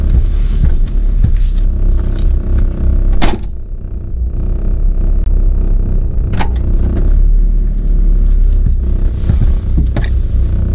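A Volkswagen Corrado G60 with a shaky idle is driven on a test drive, its engine a steady low rumble with a couple of sharp knocks or clunks standing out over the running drone.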